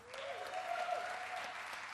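An audience at a BACARDÍ Legacy bartending event applauds a bartender, with a short, steady burst of dense clapping, some distance away, that holds at an even level.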